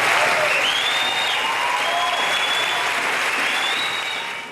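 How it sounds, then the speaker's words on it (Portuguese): A crowd at a memorial ceremony breaks into long, sustained applause, dense and steady throughout before easing off at the end. "E um demorado aplauso."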